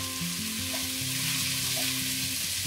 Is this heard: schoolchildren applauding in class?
no